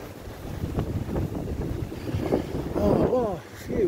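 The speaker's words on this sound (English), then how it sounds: "Just you can hear the wind." Strong wind buffets the microphone in a steady rumbling roar, with gusts swelling and easing throughout.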